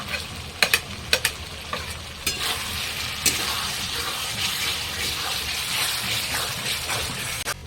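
Chicken sautéing in a pan with ginger, garlic, chicken masala and Kashmiri red chilli powder, a steady close sizzle broken by several sharp scraping stirs near the start.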